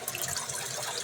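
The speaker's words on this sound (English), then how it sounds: "It should start spitting air." A well pipe under pressure spits air and water in a constant loud, harsh hiss and splatter, close by with no pause.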